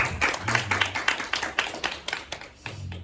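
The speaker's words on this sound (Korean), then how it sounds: "박수 한번 합시다. 같이." A church congregation claps together during Sunday worship, a run of distinct, fairly quick hand claps with a loose shared rhythm, moderately quiet, with faint low tones underneath.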